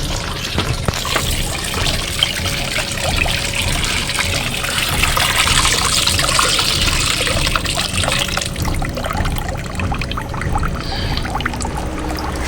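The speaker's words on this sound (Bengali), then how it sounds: "কলের আওয়াজ হচ্ছে, জলের আওয়াজ" Steady rushing water runs from a tap switched off earlier, a loud continuous flow with no voices, its texture shifting slightly partway through.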